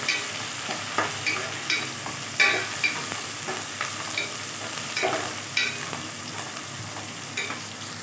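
Chopped onions and green chillies sizzle in hot oil while being stirred for an amaranth leaf fry. Steady frying hiss sits under repeated scraping strokes of the spoon, close to the pan.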